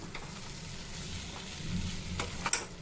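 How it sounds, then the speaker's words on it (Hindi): Fried arbi (taro root) stirred and sautéed with masala in an oiled pan for an Indian arbi sabzi, giving a steady soft sizzle with scraping spatula strokes that build toward the end, no voices. "अब इसमें डाल देंगे ये फ्राई किया हुआ अरबी और इसे भी मसाला के साथ 2 मिनट भून लेंगे"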